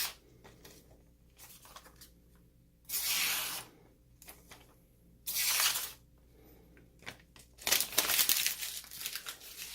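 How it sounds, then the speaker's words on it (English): A Bestech Hornet knife blade draw-cuts through paper in several separate slicing strokes, each a short crisp rasping swish with soft rustling between them. "if you draw cut, it will cut paper"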